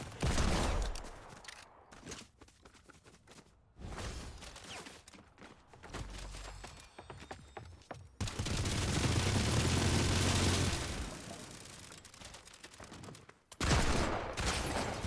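Gunfire in the Fortnite video game, bursts of rapid shots and loud sustained volleys with brief pauses between, close and intense, mixed with game effects.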